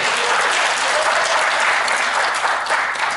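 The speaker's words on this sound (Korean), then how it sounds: "박수 다시 한번 쳐주십시오." A crowd at a fan club launch event in Gumi applauds warmly, continuous dense clapping at steady volume throughout.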